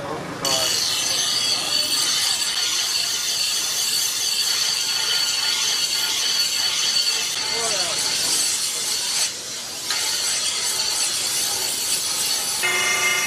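Steel knives, cleavers and toka choppers being ground to an edge at a blacksmith's sharpening shop before Qurbani, a continuous loud harsh rasping grind running almost the whole time with a brief pause near the end.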